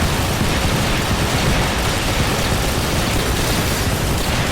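Explosions in the Tower Defense Simulator video game form a loud, dense, continuous roar of blasts with no clear gaps, steady for several seconds.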